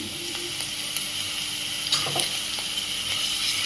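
Ginger garlic paste sizzles and fries steadily in a pan, a continuous close crackling hiss with a few soft stirring scrapes partway through.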